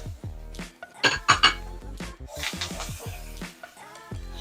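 A utensil scrapes and clinks against a pan while tomato, green onion, thyme, garlic, shallot and scotch bonnet pepper sauté, with several sharp metallic taps and a soft sizzle underneath, close and fairly loud.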